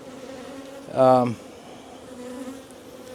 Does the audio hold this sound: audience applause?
no